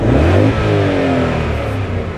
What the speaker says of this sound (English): And we'll go and give it a rev.